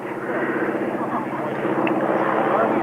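A Harvard AT-6 trainer flies at the Cranfield airshow, its radial engine and propeller giving a steady, droning buzz at mid distance while a commentator talks over it.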